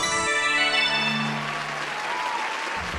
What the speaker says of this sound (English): You can kind of stop clapping now. Please stop clapping.